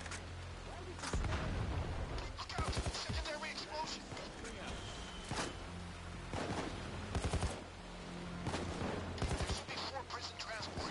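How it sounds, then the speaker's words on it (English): Gunfire in a video game, repeated sharp shots and short bursts ringing out over several seconds amid game noise, with people talking throughout. "I'll shoot one right now to prove it"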